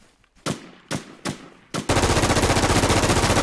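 Gunfire in the game Infestation: four single loud shots spaced about half a second apart, then a rapid sustained automatic burst rattling steadily to the end, close and dominant with no talk.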